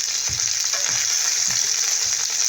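Spices including chilli flakes, red chilli powder, turmeric and garam masala fry in a pan with a steady, bright sizzle. Soft stirring scrapes come at a regular beat underneath, close and continuous, with no talking.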